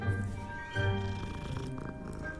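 Soft, steady purring from a cat in a Harry Potter video game, close and continuous over a couple of seconds with a faint tonal music bed behind it.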